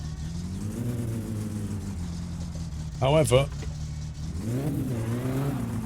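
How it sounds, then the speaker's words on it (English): A car engine in My Summer Car runs with its exhaust removed, giving a loud, rough drone that rises and falls as it revs, with a brief spoken word partway through. "we do need to put the exhaust back on because it is running horrendously"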